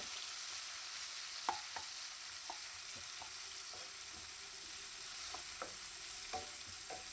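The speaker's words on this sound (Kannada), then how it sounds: "ಈಗ ಇದನ್ನು ಒಂದು ಸ್ವಲ್ಪ ಹೊತ್ತು ನಾನಿಲ್ಲಿ ಇದನ್ನು ಫ್ರೈ ಮಾಡ್ಕೊಳ್ತಾ ಇದ್ದೀನಿ." Onion and tomato fry softly in a pan with a constant faint sizzle, punctuated by light scattered taps and scrapes of a spoon stirring, with no voices.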